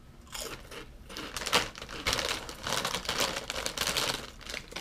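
Crunchy fried Korean shrimp chips are eaten up close, with dense, rapid crisp crunches and chewing running steadily for several seconds and no talking.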